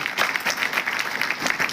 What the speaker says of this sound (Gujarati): આપણે તાળીઓથી એમને વધાવીએ.